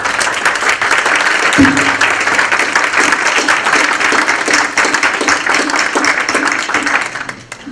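An audience at a panel discussion applauds steadily, a dense wash of clapping that holds at full strength before starting to thin near the end.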